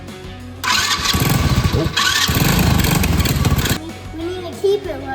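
A four-wheeler engine cranks and catches, roaring loudly into a rough, uneven run before cutting out. A brief exclamation is heard as it starts.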